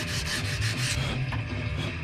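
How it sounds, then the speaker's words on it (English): Close, rhythmic scraping of sandpaper rubbing back and forth over wood, a few quick strokes in a row. "I'm sanding. I'm still sanding."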